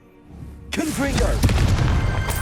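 A Confringo blasting spell explodes in Hogwarts Legacy, a loud booming burst followed by sustained crackling blast noise, with a shouted voice just before it.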